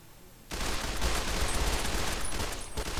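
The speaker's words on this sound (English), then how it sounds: "we're about to kind of go and just open fire on the Crimson Caravan Company" Gunfire in Fallout: New Vegas during an attack on a caravan company compound, a sudden dense, loud burst of rapid shots that starts abruptly and continues for several seconds with no talk.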